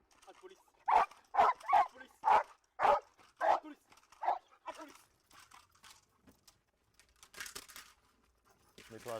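A police dog barks during handler training, with about seven loud, evenly spaced barks close by, followed by quieter sounds and brief talk from people nearby.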